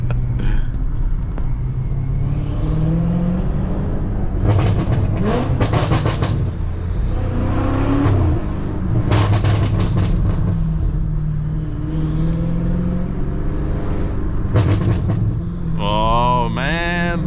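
BMW M5 F90 engine revving and shifting gears, with several loud rising rev sweeps and gear-change breaks over a constant engine drone, and a brief voice near the end.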